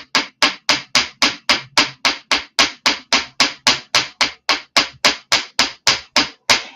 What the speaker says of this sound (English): Let's hammer another one.